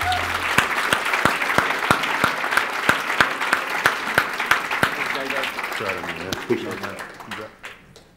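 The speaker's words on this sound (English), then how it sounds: "Everybody give Dan Holloway a big round of applause." A big round of audience applause at a Toronto conference day, steady sustained clapping from a large crowd with a few sharp claps standing out. Speech and music-like tones come in toward the end as the clapping fades.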